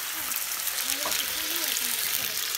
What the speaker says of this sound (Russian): Так, а я буду обжаривать баранинку. Вот уже масло прокалилось. Кипит вовсю.